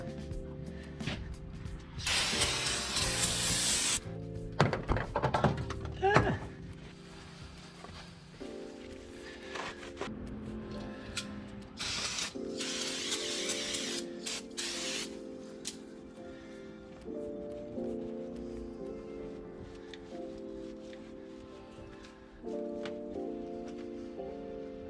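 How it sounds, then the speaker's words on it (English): Brake cleaner sprayed onto an Oldsmobile car part in two loud hissing bursts, one early and one in the middle, over a steady tonal background. "I think I'm gonna try to get all that stuff out with brake clean."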